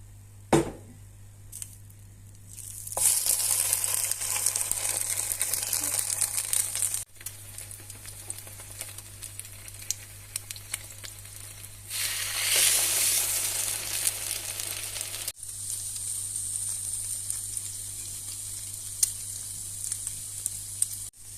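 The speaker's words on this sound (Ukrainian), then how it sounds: "Нарізаний скипками хліб я замочую у яєчну суміш і викладаю на сковорідку обсмажуватися." Egg-soaked bread slices frying in a hot pan, a steady crackling sizzle that swells louder as pieces are added, with a low hum beneath.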